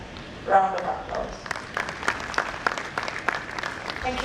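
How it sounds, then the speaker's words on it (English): An audience at a pharmaceutical society's annual professional development event claps in a brief round of applause, rising sharply then settling into scattered, uneven clapping. "I think we can give him a better round of applause."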